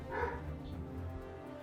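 Dogs barking in a home basement, a few close, loud woofs near the start that give way to a steady low indoor hum.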